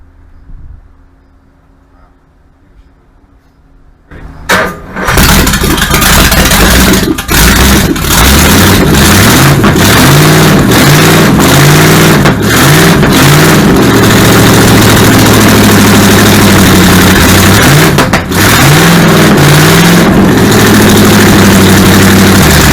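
A 1959 Vespa engine kicks into life after a few seconds of quiet handling, then roars loudly and steadily for the rest of the time, with rising and falling revs and brief throttle dips close by.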